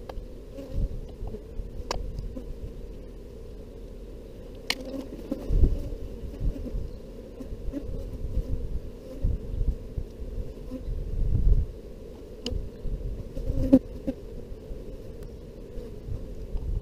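Honeybees hum at an open hive during an artificial swarm inspection, a low continuous buzz throughout with scattered close wingbeat swells and faint knocks from handling.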